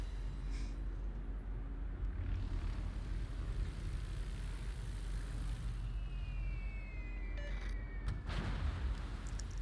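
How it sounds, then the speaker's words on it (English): Carrier-dropped bombs splash down beside a Yamato battleship in World of Warships, heard as a steady, loud low rumble with a sharp burst of noise near the end; no speech. "It's always fun seeing bombs landing right next to you."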